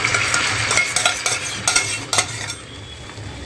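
Omelette batter hits a hot pan on a gas stove and sizzles steadily, broken by a few short scraping clinks of a spoon against the pan, close and fairly loud with no voices.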